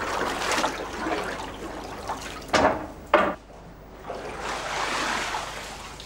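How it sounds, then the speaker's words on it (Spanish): Rag-based paper pulp is stirred in a water vat with a perforated paddle during handmade papermaking, giving two loud sloshing surges in the middle amid softer ongoing water churning. "De vez en cuando hay que revolver la mezcla con una paleta agujerada"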